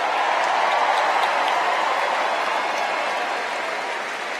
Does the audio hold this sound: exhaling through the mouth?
no